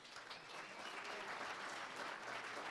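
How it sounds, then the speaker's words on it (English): Audience applause at the Food & Wine Classic in Aspen, a steady wash of many hands clapping throughout, fairly quiet and distant. "I would love to actually start with a round of applause"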